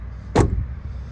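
A single solid thump of a door shutting on a 2021 Jeep Grand Cherokee L Overland, close and short, with a low chunky body followed by a quick fade into quiet room tone.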